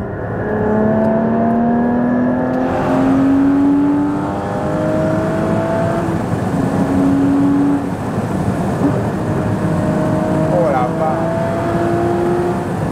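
A 2016 Porsche GT4 engine with its exhaust valves open climbs through repeated rising revs from inside the car, each pull a sweeping tonal wail over a steady road drone, with people talking underneath.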